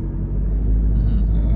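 A car rolls slowly over a speed bump during a road test in Mississauga: a loud, close, steady low rumble of the engine and tires inside the cabin, with no distinct thump.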